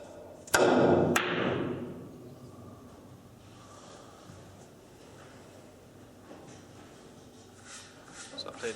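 Two sharp cue-ball strikes in a Virtual Pool 4 video game match, a crisp knock followed by a second click about half a second later, then a low rolling rumble that fades under a quiet background.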